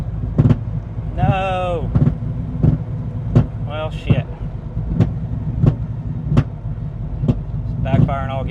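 A widebody C5 Corvette with a swapped LS7 engine backfires, loud sharp pops repeating roughly once a second over a steady low engine drone, with voices speaking briefly between pops.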